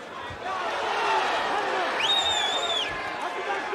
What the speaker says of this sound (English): this crowd here in Charlotte is simply frenzied